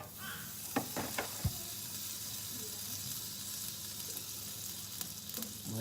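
Soft continuous sizzle of food frying in a pan over medium to low heat, with a few sharp clicks and taps of utensils early on and no talking.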